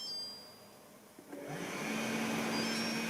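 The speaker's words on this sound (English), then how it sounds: "the vacuum's going to turn on for a second" A Samsung POWERbot R7040 robot vacuum's suction motor whirs up from quiet after a faint click, rising into a steady, fairly loud suction hum with a high whine, on normal mode.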